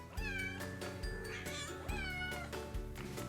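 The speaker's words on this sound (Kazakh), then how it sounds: "Ал бұл мысық." A domestic cat meows repeatedly and loudly up close, several drawn-out, wavering cries in a row with short gaps, over a steady low background hum.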